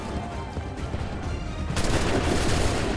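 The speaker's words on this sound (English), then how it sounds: "Open fire." A musket volley in the Assassin's Creed 3 video game set in Montreal, a dense roar of gunfire that swells midway into a louder, harsher burst, close and continuous throughout without talking.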